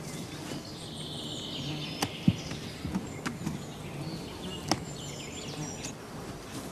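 Package honey bees held in confinement hum as a faint, soft buzz, with a few sharp clicks scattered over the low drone.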